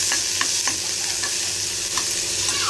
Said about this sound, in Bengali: আর এখানে একটু আলু ভাজা করছি।